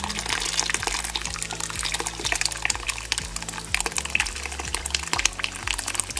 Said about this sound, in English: I'm gonna have my mom pour in the mixture just so it's a little bit more safe.